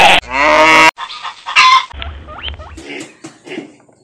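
Three piglets squealing on a backyard farm, a loud, shrill sustained squeal followed by shorter grunts and snorts with a low rustling underneath, close and unaccompanied by talk.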